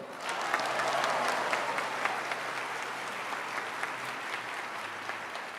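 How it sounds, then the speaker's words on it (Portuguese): A church congregation applauding during a worship service, a broad sustained patter of many hands clapping at moderate distance, even in level with a low hum underneath. "Quem crer dá um glória e aplaude para valer"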